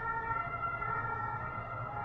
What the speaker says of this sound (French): vu l'ambulance qui vient de passer